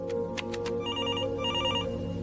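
A telephone rings with a steady electronic bell. It gives a few quick pulses and then two longer trilling rings, heard clearly over a constant background hum.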